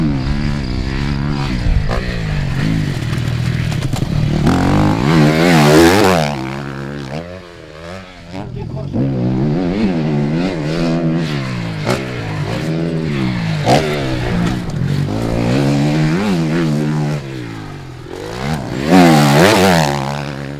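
An enduro motorcycle engine revs hard and varies as the bike climbs and clears a jump on an off-road training course, throttle rising and falling continuously and loudly up close.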